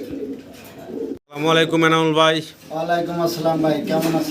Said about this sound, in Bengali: খুব চমৎকার একদম পুতুলের মতো দেখতে একজোড়া বোম্বাই কবুতর